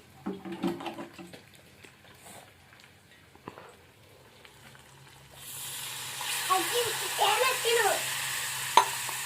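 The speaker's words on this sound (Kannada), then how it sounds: "ನಾವು ಹತ್ತತ್ತ ನೀರು ಹಾಕೋಣ" Water poured into a hot pan on a home gas stove bursts into a loud, hissing sizzle halfway through, following quieter stirring and clinks; the bubbling continues steadily to the end.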